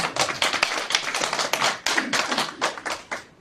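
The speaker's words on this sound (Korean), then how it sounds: "박수 한번 쳐주시고" Audience at a church leaders' assembly breaks into brisk, dense hand clapping, sharp individual claps merging into steady applause that swells and dips in waves throughout, close and fairly loud with no talking.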